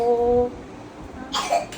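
A child gives a couple of short, close coughs near the end, after a brief moment of voice.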